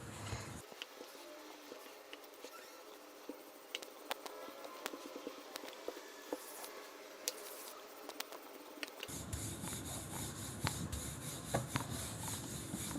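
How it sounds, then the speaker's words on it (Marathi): Stuffed paratha dough is rolled out lightly with a rolling pin. Soft, repeated rubbing and pattering sounds are heard close up and quiet, followed by a louder, busier background near the end, with no talking. "पीठ टाकून आपल्याला हा हलक्या हाताने लाटून घ्यायचा आहे"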